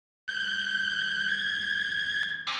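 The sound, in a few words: industrial synth with heavy distortion and super fast vibrato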